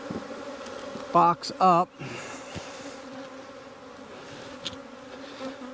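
Honey bees buzzing during an April inspection of a single brood chamber hive: a soft continuous hum in the background beneath a few brief spoken words and some handling clatter.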